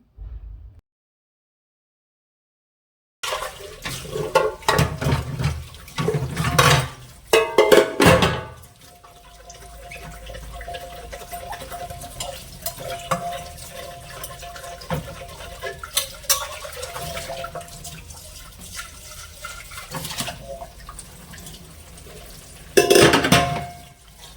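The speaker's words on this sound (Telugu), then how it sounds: "వంట అయిన తర్వాత అయితే ఉండే సామాన్లు కూడా అన్నీ కడిగేసుకుంటాను" Cooking pots and utensils being scrubbed and rinsed, with clinks and scrapes of metal over a low wash of running water, intermittent and close, a few louder clatters near the start and end.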